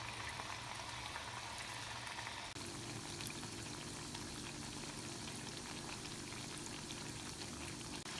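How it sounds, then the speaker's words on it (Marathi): Chakli dropped one by one into hot oil and deep-frying, a faint, continuous bubbling sizzle that thickens and grows denser partway through, with no voices. "एक एक करून आपण सगळ्या चकल्या तेलात टाकून घेऊया"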